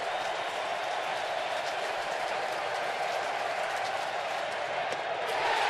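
Large baseball stadium crowd on its feet during a playoff game, cheering and clapping in a steady, dense roar at full volume for the whole stretch, with no pause or lull.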